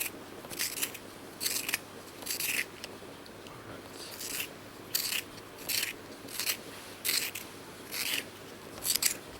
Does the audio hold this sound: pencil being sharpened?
yes